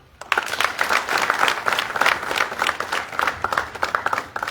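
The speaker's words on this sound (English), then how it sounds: "Let us appreciate God with a clap" A crowd of students and parents at Hope Secondary School in Yirol claps in thanks to God, a lively, uneven patter of many hands, close and sustained for several seconds without pause.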